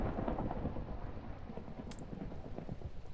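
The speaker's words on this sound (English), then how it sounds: "How's the thunder volume, out of curiosity?" Minecraft thunder rolling as a low, continuous rumble under steady rain noise, loud and sustained across the whole stretch with no voices.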